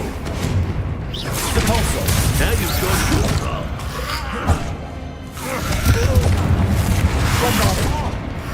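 Confringo blasting spell from Hogwarts Legacy: loud bursts of explosive booming and crashing, with a sharp hit near the middle and a second heavy flurry of blasts later, mixed with game voices.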